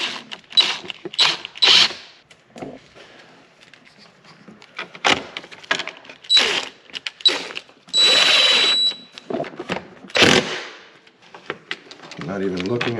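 A bolt being screwed in by hand while installing a Smart ACM module on a 2026 Can-Am HD11 Defender Limited, with irregular clicks, ratcheting and rustling of parts, mixed with talk and a longer buzzing burst.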